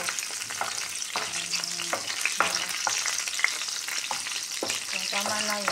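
Garlic fries in a pan as a prelude to adding shrimp, giving a continuous dense sizzle with close scraping stir strokes and brief clinks throughout, no voices.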